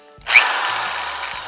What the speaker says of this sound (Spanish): Vamos a ubicar una taladro, una mecha. Con la mecha vamos a darle